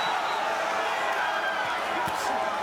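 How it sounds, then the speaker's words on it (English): Crowd noise at a Teofimo Lopez vs Josh Taylor boxing match at Madison Square Garden, a steady dense roar of support that stays loud throughout, with a commentator talking over it. "And you can hear the crowd, the support here."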